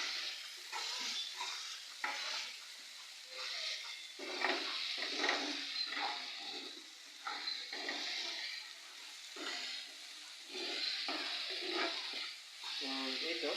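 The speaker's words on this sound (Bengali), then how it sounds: "তো এটা আপনাকে নাড়াচাড়া করতে হবে, তাহলে আর পোড়া ধরবে না" Beans and cabbage stirred and fried in a pan, with steady sizzling broken by repeated scraping and stirring strokes at a close, moderate level, no talk.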